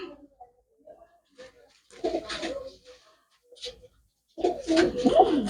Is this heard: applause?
no